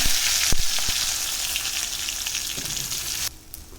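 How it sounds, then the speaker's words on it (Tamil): Mustard seeds and vadagam, sun-dried lentil fritters, fry in oil as the base for radish sambar, a loud, close, steady crackling sizzle that drops suddenly near the end. "கொஞ்சம் எண்ணெய் ஊற்றிட்டு கொஞ்சமாக கடுகு போட்டுக்கோங்க கடுகு போட்டுட்டு கடுகு பொறிஞ்சதும் வடகு போட்டுக்கோங்க"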